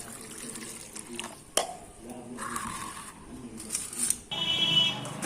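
Tap water running and splashing while a basket of raw and ripe mangoes is washed, uneven gushes with clattering bursts, moderately close, with some faint voice in the background.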